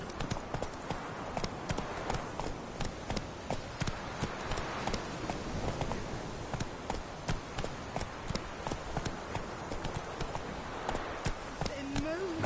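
A horse gallops in The Witcher 3 video game, its hooves clip-clopping in a fast, steady rhythm that continues throughout at moderate loudness.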